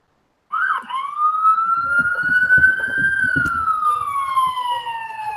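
A loud police siren starts abruptly and holds one long wail that rises slowly and then eases down, with faint traffic noise underneath.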